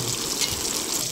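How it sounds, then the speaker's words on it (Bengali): Boiled moong dal with drumsticks is poured from a pot into a kadai, making a brief, close, continuous wet splashing pour. "এবার এই ডালটাকে আমি এই কড়াতে ঢেলে দেব।"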